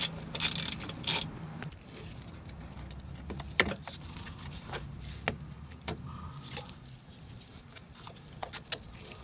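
A ratchet works loose the 10mm bolts that clip the front bumper on a 2008 Ford Escape 2.3L, giving scattered close clicks and mechanical rattles over a low hum, with a louder burst of clicking near the start.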